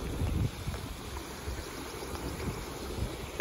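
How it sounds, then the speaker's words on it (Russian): A fast spring river runs over stones at a bend, giving a steady, broad rushing hiss that stays even throughout, close and moderately loud, with light wind noise on the microphone. "А вон там на изгибе, там вообще быстро течет река."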